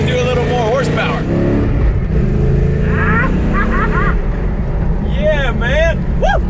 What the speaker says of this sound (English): This engine is running well.